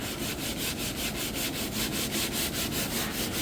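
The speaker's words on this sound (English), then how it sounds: "Just sand it on an angle here" Sanding along the edge of a white kitchen cabinet with rhythmic back-and-forth rubbing strokes, steady and close, about a dozen even passes with no talking.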